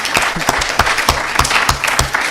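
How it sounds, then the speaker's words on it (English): Audience at a quality-week quiz competition applauding together, a steady, fairly loud patter of many hands with sharper individual claps standing out in a regular rhythm. "Let's give a hand of applause for all of ourselves again."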